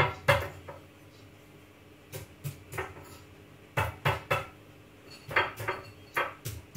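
Potatoes in a bowl get stabbed before microwaving, giving a series of sharp, close knocks and taps in irregular clusters against the bowl, with quiet gaps between them and no talking.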